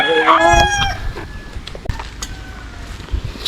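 Chickens and roosters at a poultry farm: a loud nearby rooster crows at the start, followed by scattered clucks and calls from the flock, with faint background voices.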